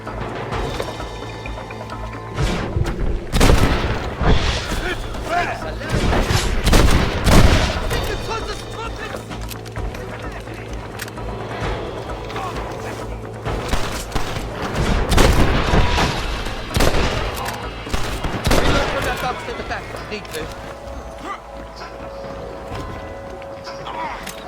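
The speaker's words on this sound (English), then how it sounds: "They're shooting down on us!" Enemy gunfire rains down from a clifftop in the Western game Red Dead Redemption, loud cracking shots arriving in irregular bursts over a running score, with shouted voices between volleys.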